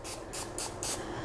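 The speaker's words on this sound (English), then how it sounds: "And I give it a little spray" Cooking oil sprayed onto a pie crust fitted with a pie shield, four quick close hissing bursts in a steady rhythm with short pauses between.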